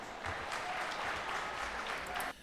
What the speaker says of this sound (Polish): Wielkie brawa, tak.